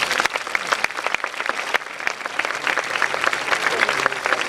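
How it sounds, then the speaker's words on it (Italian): Concert audience applauding musicians at a performance; dense, steady clapping from a large crowd, loud and continuous throughout with individual claps sharp in the mix. "quindi farei un applauso anche a loro"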